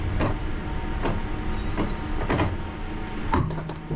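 The dead man's handle of a London Underground train gives several sharp, evenly spaced clicks over a steady loud rumble from the running train, with no talking.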